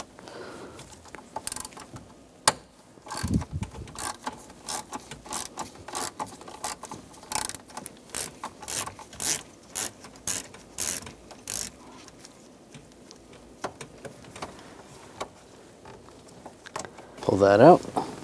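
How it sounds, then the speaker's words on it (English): A T25 socket on a ratchet backs a screw out on a 1999–2006 Chevrolet Silverado 1500 steering column, a long series of sharp, close clicking ratchet strokes in an uneven rhythm, with a voice briefly at the end. "Using a T25 socket, take this screw out."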